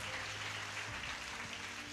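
A congregation claps at a Hindi Christian sermon, a continuous crowd applause that keeps steady from start to end, with no speech over it.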